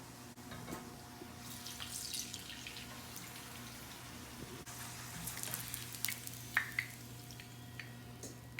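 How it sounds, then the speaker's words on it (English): Corn tortillas fry in vegetable oil in a frying pan, a soft, steady sizzle with scattered crackles and small pops close by, no voices over it. "We're gonna fry these corn tortillas up in our frying pan with vegetable oil."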